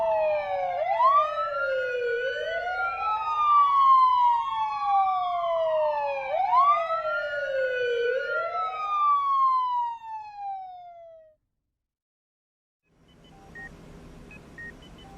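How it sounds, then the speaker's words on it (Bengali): Jeep and ambulance sirens speeding through a city at night, loud rising and falling wails overlapping in repeated sweeps, then cutting off into brief silence before a faint low rumble and beeping return. "জিপ আর অ্যাম্বুলেন্স শহরের বুক চিরে বো বো শব্দ করতে করতে ছুটে চলল"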